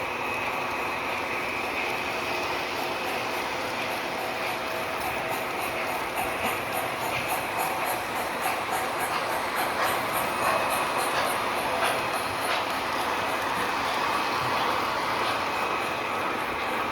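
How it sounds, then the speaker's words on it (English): Model trains run on a home layout, giving a steady mechanical rumble with faint rhythmic clicking from the wheels and gears. The sound stays continuous and even for the whole stretch. "I'll leave you guys with some footage of the trains running now."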